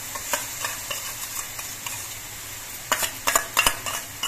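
Spice paste with tomato paste and turmeric being sautéed in a pan for katla fish kalia, soft steady sizzle with light spoon stirring, then a cluster of sharper scraping clinks near the end.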